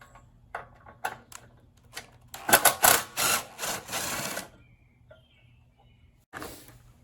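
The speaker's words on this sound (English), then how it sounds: "The factory hardware, I'm using an 11mm wrench and an HW4 Allen key." An 11mm wrench and an Allen key remove the factory handle hardware from a DEWALT 4-gallon electric dolly-style air compressor: scattered metallic clicks and taps, then a brief cluster of louder scraping, rattling strokes, and one final clunk.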